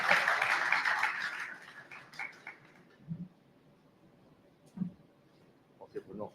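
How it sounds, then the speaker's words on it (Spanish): An audience at a lecture on Spain's investment-grade rating bursts into loud applause that fades within a couple of seconds, followed by scattered quieter sounds and brief voices. "Un aplauso fuerte."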